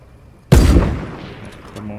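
A single loud Fortnite sniper rifle shot fires midway, a sharp booming crack that decays over about a second, with faint game sounds continuing afterward.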